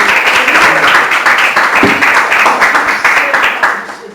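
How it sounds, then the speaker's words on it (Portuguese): A church congregation claps together in a dense, steady burst of applause that fills the space, with a faint voice briefly over it, the clapping thinning out near the end. "Você pode aplaudir o Senhor Jesus?"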